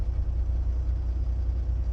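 Steady low truck engine rumble at idle with the air conditioning running, a continuous close drone without breaks or talk.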